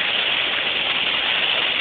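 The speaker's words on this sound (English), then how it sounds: "it is raining hard" A dense, steady hiss of heavy rain pours without a break, loud and even, with no voices, during flash flooding near Herrin, Illinois.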